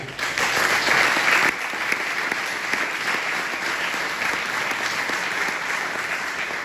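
Sustained audience applause at an event honouring a priest's 86th birthday, a dense, steady wash of many hands clapping throughout, slightly louder at the start, with no voices on top.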